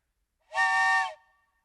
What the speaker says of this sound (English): That's my train whistle.